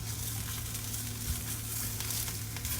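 Rice fries in a hot pan for Spanish rice, giving a continuous close crackling sizzle at an even, moderate level with a low steady hum beneath.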